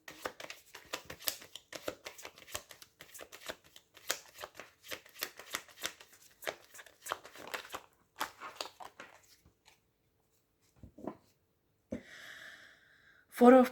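Tarot cards shuffled by hand in a quiet room, a long run of soft rapid riffling flicks that stops, followed by a few faint rustles and a brief voice near the end.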